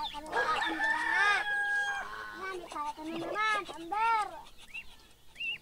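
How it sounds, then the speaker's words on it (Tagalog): Chickens cluck in a lively, close chorus, with a rooster crowing among them in repeated rising calls. "tinitingnan yung mga manok na yan"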